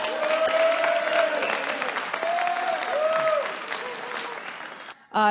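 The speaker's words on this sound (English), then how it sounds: "And let's give Shining Light crew another round of applause." Sustained clapping from an audience at a detention center presentation fills the space evenly, then fades somewhat before a sudden loud burst at the very end.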